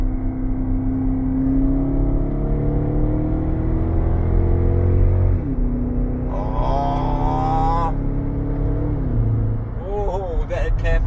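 A petrol Range Rover L322 with a retrofitted steering-wheel paddle shift pulls hard in second gear, its engine note climbing steadily and loud from inside the cabin, rising again after a brief dip while occupants talk over it.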